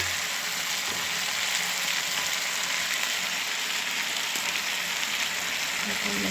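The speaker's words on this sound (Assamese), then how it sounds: "ইয়াত অকণমান মছলা দিম গৰম মছলা সেইখিনিকে ভালদৰে ভাজি হোৱাৰ পাছতে" Fish frying in a pan with garam masala gives off a steady, dense sizzle that fills the whole stretch, close and continuous with no talking.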